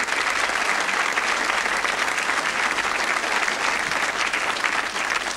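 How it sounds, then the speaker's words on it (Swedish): Dense, steady applause from a TV studio audience at a 1992 Swedish entertainment show, loud and sustained for the whole stretch with no talk on top. "En stor applåd, mina damer och herrar."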